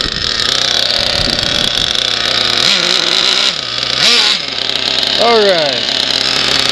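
Kyosho Inferno Neo ST nitro RC car engine buzzes loudly nearby, revving up and down in several rising and falling bursts, with someone speaking briefly over it.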